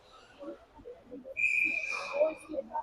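A referee's whistle shrills in an ice hockey game after an icing call, one sustained blast over arena crowd noise and an announcer's commentary.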